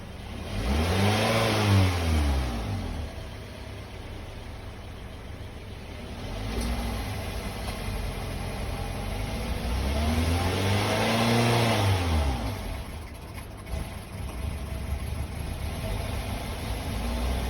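A factory CNG Toyota Altis engine running on gas idles steadily and revs up twice, swelling and falling back, with a continuous mechanical hum throughout.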